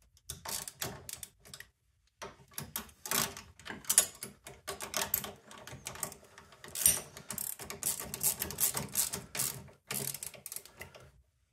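A ratchet wrench with a half-inch socket clicks in quick bursts of rapid pawl ticks while fitting ice scratchers to a Polaris Matryx Indy VR1 snowmobile. The bursts are close and separated by short pauses.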